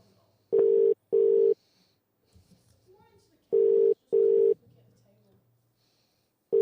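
Telephone ring tone on a call to a grandmother, two pairs of steady electronic beeps separated by a pause, with faint quiet voices murmuring in the gap.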